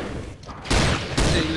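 Gunfire in the video game Schuld, two loud bursts of rapid shots breaking over a busy background of game noise.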